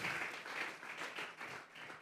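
A church congregation applauds together as an offering to God during a service, a faint, steady wash of many clapping hands heard from a distance.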